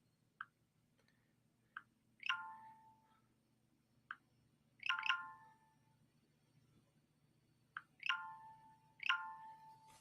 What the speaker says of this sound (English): Share that bell.